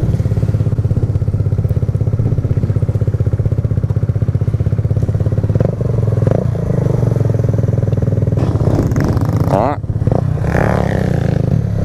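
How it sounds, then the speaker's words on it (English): Motorcycle engine revving hard and continuously while riders pull wheelies on the way to a church, loud and close throughout with throttle swells and brief clatter near the end. "I've already got some wheelies going."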